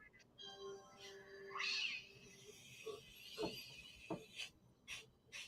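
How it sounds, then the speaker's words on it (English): Cat meows used as sound effects in a film about teenage mutant ninja turtles: a string of separate, fairly faint meows and yowls of differing pitch and length, some drawn out and others short, spread across the stretch. "did they take every goddamn cat sound from the soundboard?"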